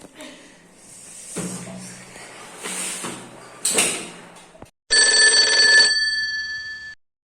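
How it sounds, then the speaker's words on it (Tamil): After some scattered clattering and movement, a loud electric school bell rings continuously for about two seconds, then stops. "ஸ்கூல் பெல் சத்தம்."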